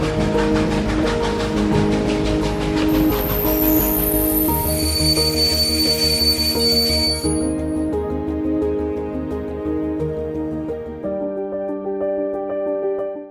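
Train pulling away with a loud, sustained metallic squeal of wheels on rails, tones shifting and thinning as it moves off, close and dominant, with no voices.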